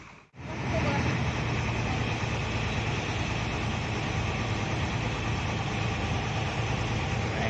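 A Hino AK Ranger bus engine idles steadily, a low continuous rumble with a faint hum that holds unchanged for several seconds after a brief quiet start.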